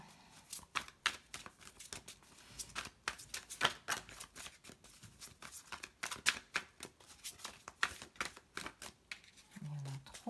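Tarot cards are shuffled and drawn in quick, close-up riffles and sharp flicks, an uneven run of crisp paper snaps, with a brief low voice at the very end.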